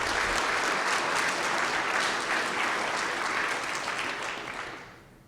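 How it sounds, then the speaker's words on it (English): An audience at a city State of the City address gives a sustained round of applause, dense and steady clapping that fills the room for several seconds before fading out at the end. "So let's give them a round of applause."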